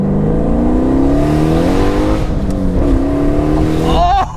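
A 700 hp nitrous-boosted Pontiac Solstice accelerates hard from inside the cabin, its loud engine note climbing steadily in pitch through the gears with a brief dip, and a voice breaks in near the end.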